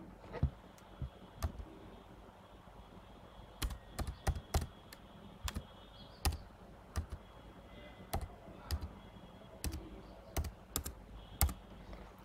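A twelve-digit Aadhaar number being typed on a computer keyboard, with bursts of crisp close key clicks separated by short pauses and a faint background hum.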